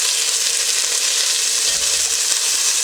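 Chicken sears in a hot pan for chicken noodle soup, with a strong, even sizzle heard up close that holds steady throughout, and a brief low bump partway through, with nobody speaking.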